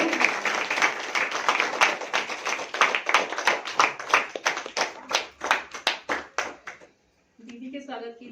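A room full of people claps hard for a guest visiting a Brahma Kumaris service centre for the first time at a Women's Day programme. Dense, steady clapping runs about seven seconds, breaks off, then a voice speaks.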